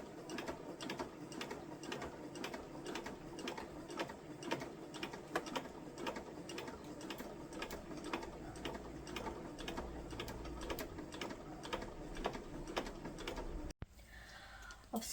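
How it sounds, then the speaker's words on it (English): A home sewing machine fitted with a zipper foot stitches along a zip on a lace pouch, making a rapid, even mechanical ticking that runs quietly and steadily with no talk, then stops with a short knock near the end. "now I'm going to take it over the sewing machine and put my zipper foot on, and I'm going to carefully sew just this layer"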